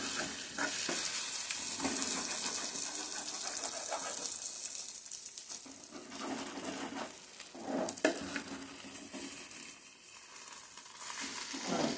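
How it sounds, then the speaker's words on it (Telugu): Fish pieces in thick gravy sizzle and fry in a pan while being stirred and flipped over, a steady close hiss broken by scraping turns and soft clatter. "ముక్కలన్నిటిని కొంచెం తిరగేసుకుంటాం"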